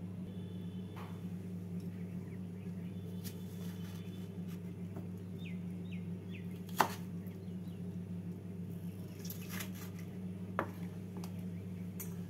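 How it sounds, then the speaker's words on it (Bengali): A knife cuts boiled onions into pieces on a board, giving a few soft, sparse chops over a low steady kitchen hum. "এবার পেঁয়াজ দুটোকে টুকরো করে কেটে মিক্সিং জারে নিয়ে বেটে নেব।"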